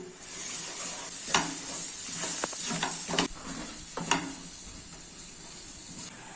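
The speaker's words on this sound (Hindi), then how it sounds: "सभी मसालों को मिक्स कर लेना है।" Spices stirred into onions in a pan while cooking garlic chicken, with steady sizzling and a few sharp scrapes and clinks of a spoon against the pan, close up and alone.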